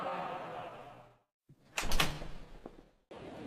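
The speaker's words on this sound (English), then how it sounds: "The doors open automatically." Automatic glass doors at an airport slide open with a brief whooshing rumble and a soft thud, set between stretches of calm narration.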